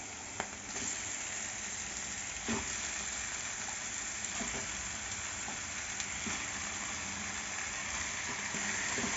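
Washed chicken pieces fry with ginger in a pan, giving a loud, steady close sizzle with a few small pops and knocks, no voices.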